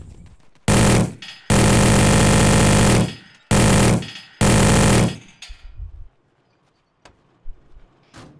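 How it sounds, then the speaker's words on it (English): Long, loud bursts of rapid minigun fire come from an MRAP in Arma 2, four sustained volleys separated by short gaps, followed by quieter scattered sounds and faint clicks. "The MRAP Tazel. has a minigun and no sight, so you shoot with tracers."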